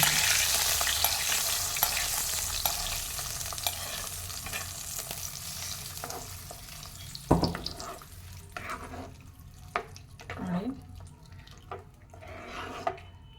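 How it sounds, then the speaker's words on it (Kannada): Hot tempering with asafoetida is poured into a Mangalore-style cucumber curd sambar. A loud hiss at first slowly dies down, followed by scattered stirring scrapes and clinks up close, with no voices. "ರೆಡಿಯಾಗಿದೆ ಒಗ್ಗರಣೆ ಈಗ ಹಾಕಿ ಮಿಕ್ಸ್ ಮಾಡೋಣ ಸ್ವಲ್ಪ"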